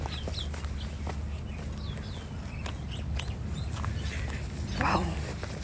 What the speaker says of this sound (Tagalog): May manok dito oh.